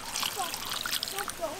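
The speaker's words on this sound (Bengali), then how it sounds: "এবার একটু জল দিয়ে দেবো।" Water splashes and trickles into a pan while cut bitter gourd and potatoes are being prepared for cooking fish, a steady close sloshing pour throughout, with faint voices in the background.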